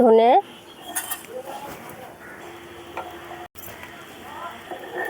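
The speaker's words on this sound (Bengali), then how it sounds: "প্রথমে গোটা মশলাগুলো ড্রাই রোস্ট করে নেব" Whole spices are dry-roasted in a pan, with quiet scraping and clinking of a utensil against the metal and a brief voice at the very start.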